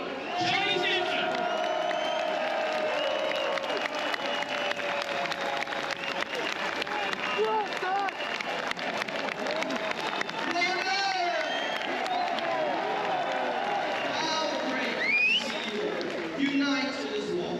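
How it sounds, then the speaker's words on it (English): A rally crowd in London cheers and claps in a sustained, dense roar of applause with scattered whoops and shouts, loud and continuous throughout, with voices calling out over it. "Massive, massive cheer around of applause"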